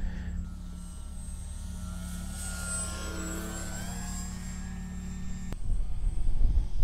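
A Dynam T-28 Trojan RC plane's electric motor at just over half power on its maiden flight, a steady whining drone in the air with its pitch shifting as it passes, then wind noise toward the end.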